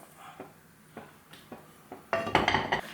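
Roasted sesame seeds and nuts tipped onto a plate: a few soft taps of a pan against the plate, then a short, loud rattling pour of the seeds and nuts, close and alone.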